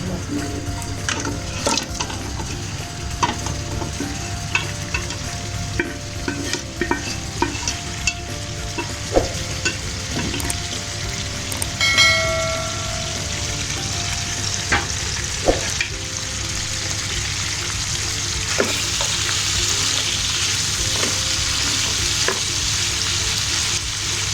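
Mutton frying with spices in a karahi, a steady loud sizzle broken by scraping stirs and occasional clinks of a utensil against the pan, continuing throughout without talk.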